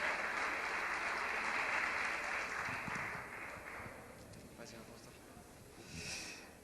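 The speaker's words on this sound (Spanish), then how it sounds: "darle un fuerte aplauso al Señor" A church congregation claps together in a broad, steady wash of applause that starts strong and fades somewhat partway through, rising briefly again near the end.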